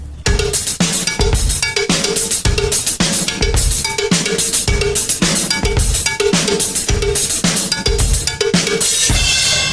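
Cowbell and hi-hat keep a steady pattern while a simple kick drum adds low thumps beneath, a loud, close drum groove running continuously for about ten seconds.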